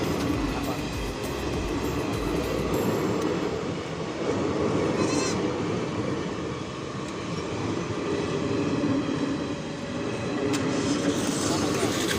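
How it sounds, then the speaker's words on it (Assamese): A train rumbles past at the Namguri railway level crossing in Assam, a steady heavy clatter of wheels on rails that swells and eases as the cars roll by. "নামগুৰি ৰেল গেট পৰি গ'ল। এতিয়া ৰখি আছোঁ তো ৰেল"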